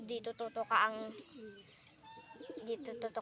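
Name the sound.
pigeons feeding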